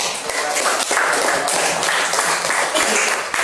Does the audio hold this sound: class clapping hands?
yes